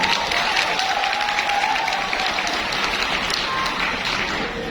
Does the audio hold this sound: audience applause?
yes